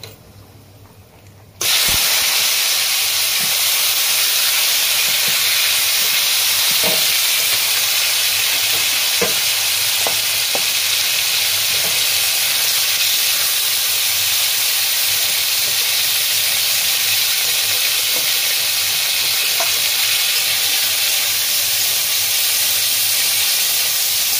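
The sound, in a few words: chicken mince frying in hot oil in a wok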